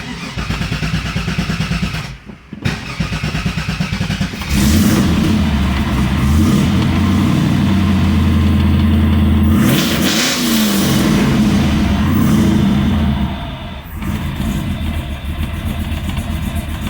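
A big LS3 V8 with 317 heads and an LS1 cam idles roughly and cuts out for a moment. It then revs up loudly, holds a strong roar and eases back to idle.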